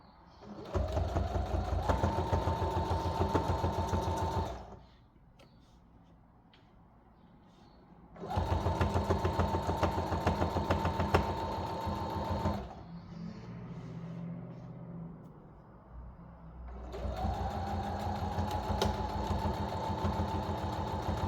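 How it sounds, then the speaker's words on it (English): Sewing machine back stitching a fabric Bible cover, running in three loud, steady bursts of rapid stitching separated by quiet pauses with faint handling noises. "So I'm just going to do my little back stitching here,"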